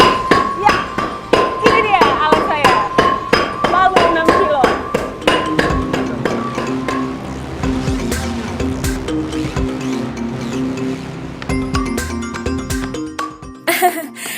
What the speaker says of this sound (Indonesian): Ya, ini dia alat saya. Palu 6 kilo.